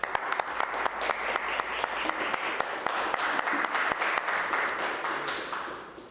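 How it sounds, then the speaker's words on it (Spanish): Audience at a Catholic lay-ministry talk gives a strong round of applause for a presenter, with crisp individual claps in a dense, steady wash that slowly tapers off toward the end. "pedimos para él un fuerte aplauso"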